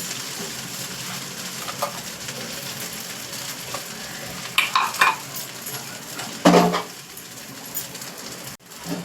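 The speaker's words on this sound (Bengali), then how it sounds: "আর দিয়ে দিচ্ছি এখানে ভেজে রাখা পনিরটা" Fried paneer going into a pan of chow mein, with a continuous sizzle under stirring scrapes and a couple of sharp utensil clatters against the pan midway.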